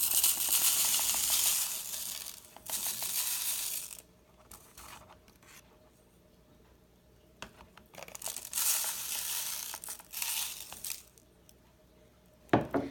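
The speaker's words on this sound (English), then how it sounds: "I'm going to use a paper plate funnel to put the bath salts in" Epsom bath salts poured through a paper plate funnel into a bottle, giving bursts of gritty rustling and crinkling that stop and start, fairly close, with quiet pauses between pours.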